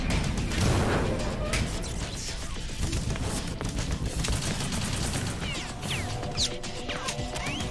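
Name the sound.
explosive-ammo P90 gunfire in Metal Gear Solid 2 video game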